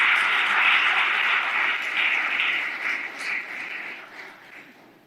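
Congregation clapping in a church service, a dense sustained wash of many hands that stays steady and close before gradually thinning toward the end.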